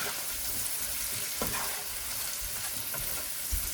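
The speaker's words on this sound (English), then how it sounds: "you want to keep stirring this. And you want to actually let this render." Onions frying in a pan with a bit of sugar, a soft continuous sizzle broken by scraping stirs, faint and close.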